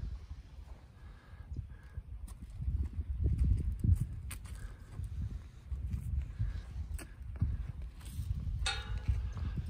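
Horses move and play in a sand pile in their field, with soft irregular hoof thuds and shuffling in sand, plus a few sharper knocks, at close range.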